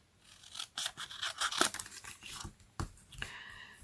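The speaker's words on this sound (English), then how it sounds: "let me just use my scissors real quick here" Scissors snipping out paper card pieces for a Stampin' Up! birthday card, a quick run of crisp cuts and paper rustles close up, with no one talking.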